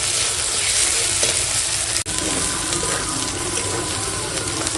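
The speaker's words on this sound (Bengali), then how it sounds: "এখন দিয়ে দেব এই সিদ্ধ করা কচু কচুর সঙ্গে একসঙ্গে একটু মশলাটা কষিয়ে নেবো" Loud continuous frying hiss with stirring scrapes as boiled taro and spices cook in a pan, broken by one brief dropout.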